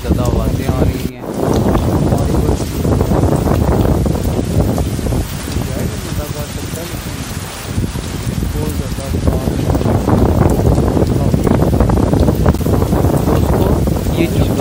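Heavy rain and strong gusting wind batter a dockside during a storm, a loud continuous roar with wind rumbling across the microphone and someone talking over it.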